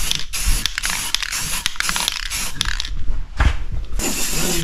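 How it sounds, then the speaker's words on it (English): A spray paint can hisses in quick bursts while a racing mower is painted, with rattling and scraping handling noises between sprays close by. "Now we're gonna spray paint it."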